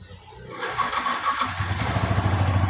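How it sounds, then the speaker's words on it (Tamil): A motorcycle engine cranks and catches, then settles into a steady, throbbing idle up close. "இப்போ நம்ம பைக்கை ஸ்டார்ட் பண்ணுற பாருங்க."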